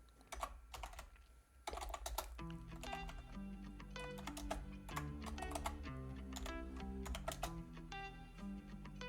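Typing on a computer keyboard: steady clicking keystrokes over a low background hum, close and clear, with a short pause near the start before the rapid tapping resumes.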